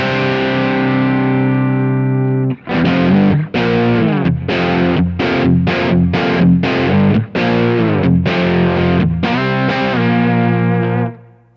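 An electric guitar plays through a Thorpy FX Warthog distortion pedal: a long sustained, thick overdriven chord rings out, then a rhythmic series of chopped, gritty chords follows, loud and clean of any talk.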